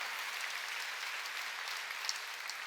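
A church congregation claps together in a sustained, even burst of applause during a Sunday service, with no voices over it.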